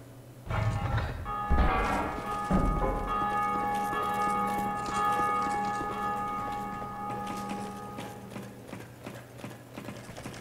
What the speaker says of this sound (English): That deserves a ringing of the bell.